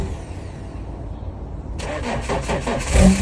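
A 3-litre BMW N57 diesel engine cranks and fires partway in, after quieter background noise, then settles into a steady, close, rough running note.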